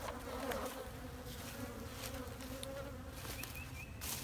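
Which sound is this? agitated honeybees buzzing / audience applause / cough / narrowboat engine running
agitated honeybees buzzing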